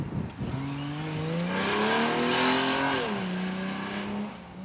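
A 4.8 litre turbo petrol 4x4 winch truck at an off-road sprint stage revs hard and pulls away, engine pitch climbing steadily then dipping as it shifts, loud and close with no talk.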